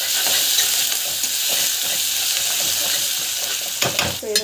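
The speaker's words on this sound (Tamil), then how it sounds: "ஸோ நல்லா வதக்கிட்டு போகிறேன்." A spiced mixture with turmeric, asafoetida and rock salt sautéing in a pan, a steady close sizzle with stirring scrapes throughout, and a brief voice at the very end.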